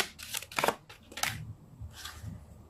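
Tarot cards shuffled by hand in a few quick riffling bursts with brief pauses between them, close and fairly quiet, with no talking.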